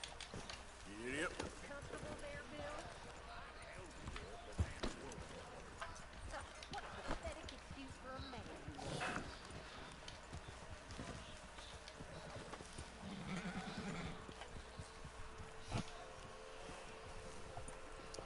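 Horse hooves clip-clop steadily in Red Dead Redemption 2, a continuous trotting rhythm mixed with game ambience and occasional voices over the top.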